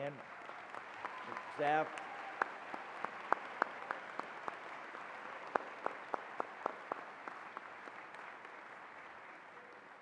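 Sparse, faint claps, singled out and spaced apart, sound through a quiet hall as a dental school graduation ceremony recognizes its faculty and staff, with a brief spoken word near the start.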